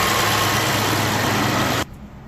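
A 2019 Ford F150 5.0 engine, which has a misfire and is running on CNG, drones loudly and steadily as the low pressure injectors come on, then cuts abruptly to a much quieter hum near the end.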